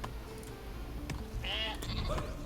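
Sheep bleat in the Viking strategy game Northgard, a single wavering bleat rising out of a steady ambient game backdrop, followed by softer chimes and tones.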